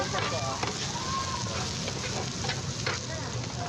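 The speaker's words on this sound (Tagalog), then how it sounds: "Nahalo na Insan yung sisig." Pork sisig with egg and skin sizzles loudly on a hot pan at a Filipino street food stall in QC, with steady frying crackle and scraping stirs as it is mixed, while people talk nearby.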